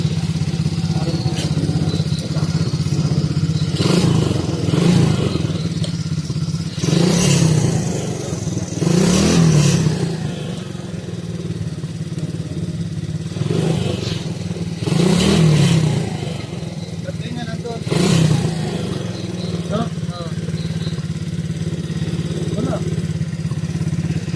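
A motorcycle engine idles and revs in repeated surges on Mt. Parawagan at night, close and fairly loud, while people talk intermittently over it.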